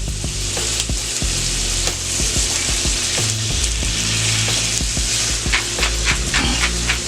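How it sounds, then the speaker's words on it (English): Teriyaki salmon with teriyaki sauce, salt and pepper sizzles and fries loudly on a Steelmade flat top griddle, a steady hiss broken by scrapes and clicks of a spatula as the fish is flipped. "I'm going to flip it over. And I'm going to hit it with a little bit of teriyaki sauce on this side."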